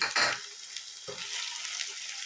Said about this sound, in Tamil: இந்த தக்காளி வந்து நல்லா எண்ணெய் பிரிகிற அளவுக்கு வணங்கணுங்க